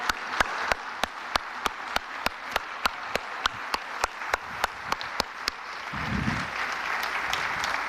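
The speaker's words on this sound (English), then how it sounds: "Round of applause, ladies and gentlemen." A conference audience applauds after a speaker is introduced at a BNI business networking event, with sharp regular claps standing out over a steady wash of clapping from a large crowd throughout.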